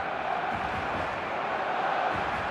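Matchday crowd in the eFootball video game: a dense, steady stadium roar that holds at an even level throughout.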